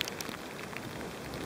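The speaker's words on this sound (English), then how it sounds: "when there's the rain pelting down" Heavy rain pelts down at a summit camp on Beinn na Lap, a dense, even hiss of drops heard alone and close for a brief moment.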